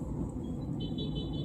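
Street traffic of cars and motorcycles during rush hour near a collision, a steady low engine rumble throughout with a brief horn-like tone entering partway through.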